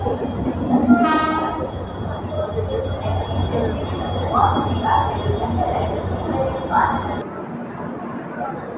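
The East Coast Express, train 18045 running from Eluru to Hyderabad, rumbles steadily as heard from inside a 3rd AC coach. A horn sounds briefly near the start, and quiet voices carry beneath the rolling noise.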